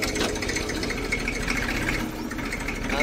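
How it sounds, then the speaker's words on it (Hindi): A Massey tractor engine idles with a steady, rumbling mechanical drone, constant and moderately near, with no speech over it. "देखना ये अपना मेसी ट्रैक्टर"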